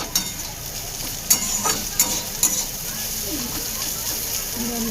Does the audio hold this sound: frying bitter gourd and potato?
yes